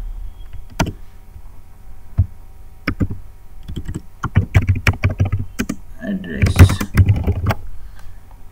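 Keystrokes on a computer keyboard while entering login and contact details, scattered clicks at first, then quicker bursts of typing with short pauses, close and clear over a faint hum.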